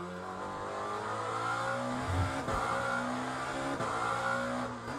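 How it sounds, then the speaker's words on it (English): Lamborghini race car engine in the Le Mans Ultimate sim, a sustained revving drone with steady harmonic whine and brief pitch dips at shifts, held at moderate level throughout. "I feel the Lambo sounds exactly the same"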